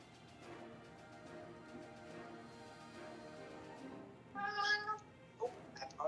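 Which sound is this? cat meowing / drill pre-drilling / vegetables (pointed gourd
cat meowing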